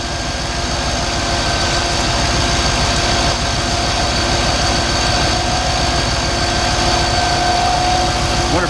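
A 1966 car engine idling smoothly, a steady close even drone with a constant mechanical hum and no change in pitch.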